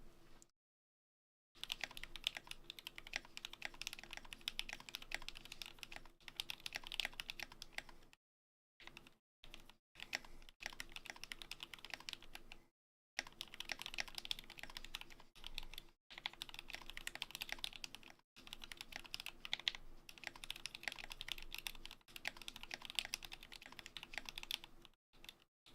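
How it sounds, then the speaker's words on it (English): Fast, continuous typing on a mechanical keyboard fitted with hand-lubed Glorious Lynx switches, producing soft, muted, evenly paced keystrokes heard close up, broken by a few short pauses. "Oh, Glorious Lynx switches lubed."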